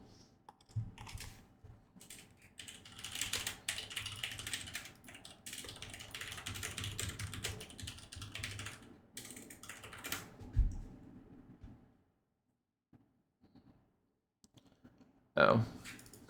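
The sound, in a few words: typing code on computer keyboard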